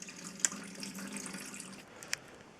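Coolant water drains from a Ford Model A engine into a bucket during water pump removal in a garage, a soft continuous trickle and splash with a couple of small drips.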